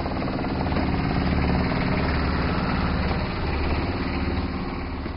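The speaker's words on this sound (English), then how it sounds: "Now, a boat ride to get a closer look at the mountain." A tour boat's engine runs on the Jinjiang River around Danxia Mountain, a loud, steady low rumbling drone that continues unbroken throughout, with no voices.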